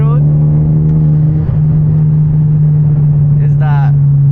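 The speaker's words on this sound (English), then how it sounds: "I love hearing the turbo, man." A manual turbocharged Genesis Coupe with loud exhaust drones steadily from inside the cabin at night, a strong constant engine hum holding throughout while a brief higher whine rises near the end.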